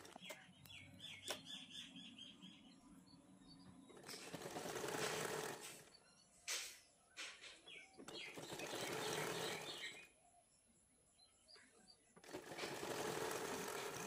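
A sewing machine stitches double-folded blouse fabric in several loud bursts of steady running, separated by pauses with faint chirping birds in the background.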